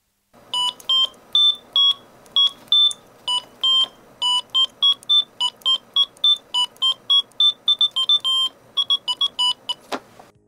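Notes from an Arduino Uno synth driven over MIDI, a rapid run of short electronic square-wave beeps at shifting pitches in an irregular melodic rhythm, clean and close, ending with a sharp click.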